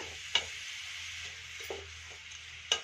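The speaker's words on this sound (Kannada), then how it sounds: "ನೋಡಿ, ಚೆನ್ನಾಗಿ ತುಪ್ಪದಲ್ಲಿ ಕ್ಯಾರೆಟು ಹುರ್ಕೋತಾ ಇದ್ದೀನಿ" Grated carrots frying in ghee in a pan, a soft, faint sizzle with a few light scrapes and clicks of a spoon stirring at intervals.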